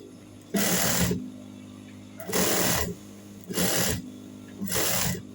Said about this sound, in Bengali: এখন গলাটাও কিন্তু আমি মেশিনের সাহায্যে বসিয়ে নিচ্ছি।